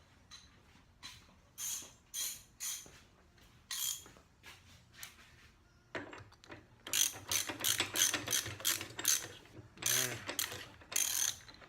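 A ratcheting driver tightens a nut on a Norton Commando 750 motorcycle during restoration, with bursts of rapid clicking ratchet strokes, sparse at first, then a denser run of repeated strokes, close and clear with no talk.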